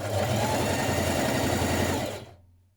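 Sewing machine stitching a dress seam in a fast, steady, close whir that runs for about two seconds before stopping and trailing off.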